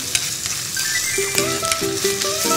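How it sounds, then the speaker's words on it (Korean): Minced meat stir-frying with garlic in a hot pan, loud continuous sizzling with clinks and scrapes of a utensil stirring, no voices. "이제 마늘하고 같이 볶아주세요."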